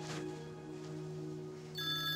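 A mobile phone rings with a steady electronic ringtone that turns brighter and louder near the end, heard alone in a quiet room.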